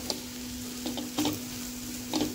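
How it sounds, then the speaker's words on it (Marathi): Onions being stirred and roasted in a pan for chutney, a soft steady sizzle with a constant hum beneath and a few light scraping stirs at irregular moments. "आणि 1-2 मिनटं चांगलं हलवत राहायचं आणि हलवून मग छान भाजली का"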